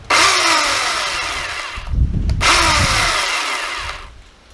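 An electric chainsaw revs loudly in two long bursts of high whine, dropping briefly to a low idle in between before spinning down at the end, with no talking.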